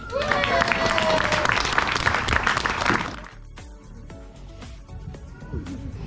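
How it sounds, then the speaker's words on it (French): Audience applause at the inauguration of a reading hut in Bachères, Tamines, with dense clapping and crowd noise for about three seconds before it fades to quieter room sounds and scattered noises. "Merci d'applaudir notre fourmitou Didier"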